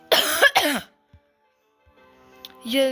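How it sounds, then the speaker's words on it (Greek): A person playing Geometry Dash gives two harsh, close coughs in quick succession. A short quiet gap follows, then speech begins. "ναι, έχω λίγο βήχα"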